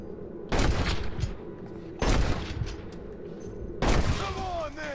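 Three separate loud booming pistol shots spaced about two seconds apart in the Western video game Red Dead Redemption, each ringing out with a short reverberant tail over a steady low background.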